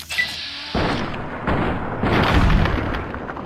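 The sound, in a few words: gunfire from the Maria gun in modded Fallout New Vegas video game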